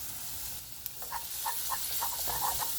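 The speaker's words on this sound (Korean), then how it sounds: "기름에 볶아주세요." Garlic stir-frying in oil in a pan, a steady close sizzle and hiss broken by the clinks and scrapes of stirring, with no talking over it.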